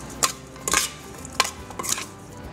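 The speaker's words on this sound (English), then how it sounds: "So I'm just going to mix this up." Spoon mixing conch with salt and black pepper in a bowl, four or five sharp clinks and scrapes in pairs, close and fairly quiet, with no talking.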